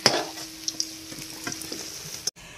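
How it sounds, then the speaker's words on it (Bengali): Battered cauliflower pakoras sizzle in hot oil in a wok as they are stirred and lifted out, a close continuous frying hiss broken by light scraping and clinks, ending abruptly. "সমস্ত পকোড়াগুলো ভাজা হয়ে গেছে, এবার তুলে নিচ্ছি।"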